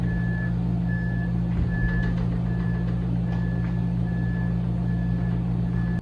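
Large roofing trucks sound a steady reversing beep, evenly spaced tones repeating over a low engine rumble at a building site.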